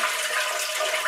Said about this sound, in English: just hold the handle down to empty the water out of the tank